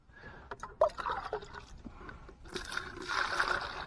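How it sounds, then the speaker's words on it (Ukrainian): Water sloshes and splashes as a bucket is rinsed outdoors, in short splashes and then a longer swirling burst toward the end, heard close and moderately loud. "Заодно відерку сполосну."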